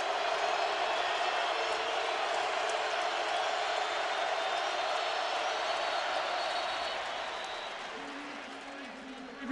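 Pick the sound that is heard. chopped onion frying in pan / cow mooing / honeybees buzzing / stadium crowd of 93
stadium crowd of 93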